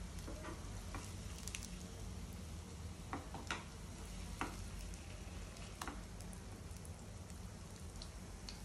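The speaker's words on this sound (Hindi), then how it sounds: "Cello fry, not deep fry." Aloo tikki patties are shallow fried in oil until dark brown, producing a soft, continuous crackling sizzle with scattered pops and light spatula taps, heard alone without talk.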